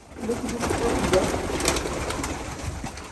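Pigeons cooing in a loft, soft low coos repeating close by over a busy background of wings and shuffling, fairly loud and continuous.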